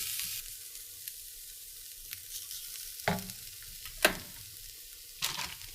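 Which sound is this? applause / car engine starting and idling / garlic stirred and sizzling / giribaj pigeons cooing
garlic stirred and sizzling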